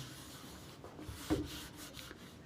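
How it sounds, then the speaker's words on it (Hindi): A duster rubs out writing on a board during a maths lesson on cylinders, giving a soft, close brushing scrape with one slightly stronger stroke in the middle and no talking. "इसको रब कर देता हूँ"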